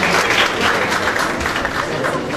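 A conference audience claps loudly through the whole moment, a dense, even burst of applause with no speech on top.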